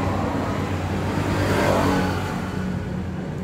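A Yanmar F7 tractor engine, not yet cleaned up, runs close by with a steady rough diesel drone that swells slightly midway.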